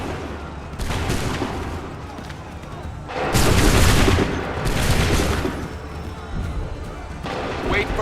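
Musket volleys thunder in Assassin's Creed III, with several loud, rolling bursts of massed gunfire rising and fading over a constant battlefield rumble, close and heavy.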